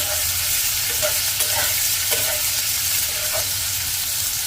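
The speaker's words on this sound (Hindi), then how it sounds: "प्याज को इस तेल में हम थोड़ा सा फ्राई कर लेंगे।" Onions fry in hot oil over a low to medium flame: a steady, loud sizzle that never lets up, with a few soft clinks of stirring on top.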